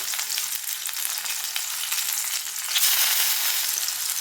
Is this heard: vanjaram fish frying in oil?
yes